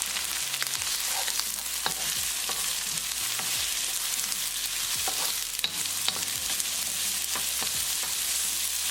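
Onions sauté in a hot pan, a steady sizzle running throughout while a spoon or spatula scrapes and stirs them at irregular intervals, close and fairly loud, with no voices.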